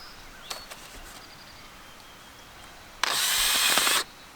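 A power drill boring holes for plants at a flood-damaged home, heard as one loud, steady whirring burst of about a second, preceded by a few faint clicks and knocks.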